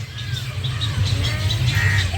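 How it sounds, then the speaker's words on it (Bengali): Many birds calling on an island, repeated short chirps and caws scattered over a steady low rumble. "কত পাখি এখানে বসে আছে, দেশ বিদেশের নানা রকম পাখি"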